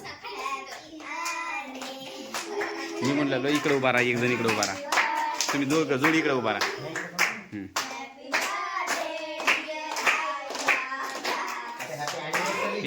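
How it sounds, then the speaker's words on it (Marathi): Hands clap in quick bursts at a family wedding-anniversary celebration at home, mixed under near, loud speech from adults and a child giving instructions. "टाळ्या वाजवा."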